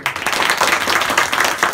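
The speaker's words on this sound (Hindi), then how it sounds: "जोरदार ताली" A school audience in an inter college classroom gives loud, sustained applause for a student, with dense overlapping clapping continuing steadily throughout.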